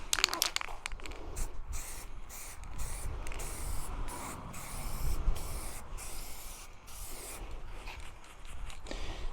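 Aerosol spray paint can dusting a light coat onto a 1/6 scale Armortek M26 Pershing RC tank model, a close hissing spray in repeated short bursts broken by brief gaps, no voices.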